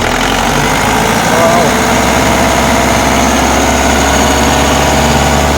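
A Willys jeep engine runs close by in a loud, steady idle that holds a constant rumble throughout, with voices talking over it.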